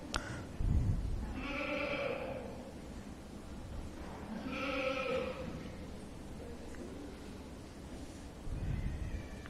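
Goats bleat in the show ring at a county fair goat show: two loud, drawn-out wavering calls a few seconds apart over a low crowd and barn murmur.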